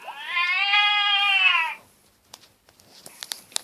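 A single loud, drawn-out cat yell with rich harmonics lasting nearly two seconds, followed by faint scattered clicks and rustles.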